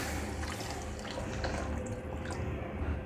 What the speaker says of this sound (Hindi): तो अब हम इसमें डाल देंगे पानी